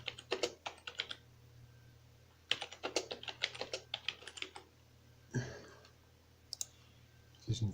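Quiet clusters of keystrokes on a computer keyboard, typed in quick bursts with short pauses between them and a faint low hum underneath.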